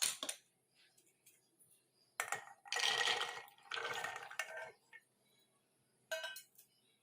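Soaking water from chickpeas is poured into a cooking pot for chana masala, in two splashy pours separated by brief clinks of a spoon and metal dishes in a quiet kitchen.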